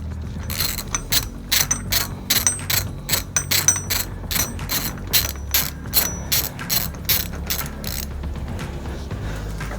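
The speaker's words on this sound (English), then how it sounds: "we're going to loosen up the adjusting bolt on the chain tensioner" Ratchet wrench loosening the chain tensioner adjusting bolt on an SE Bikes Beast Mode Ripper BMX bike, a steady run of rapid pawl clicks in repeated bursts, close and clear with no talk.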